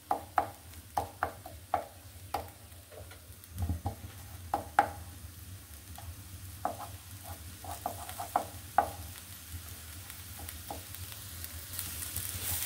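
Onion and garlic fry for lentils in a pan, a steady low sizzle beneath repeated sharp scrapes and clinks of a spoon stirring, irregular strokes spread throughout, close and moderately quiet with no speech.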